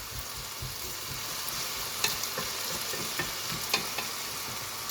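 Potato pieces sear in a pan for a quick Moroccan tajine, giving a steady close sizzle with scattered sharp pops and crackles throughout and no voices.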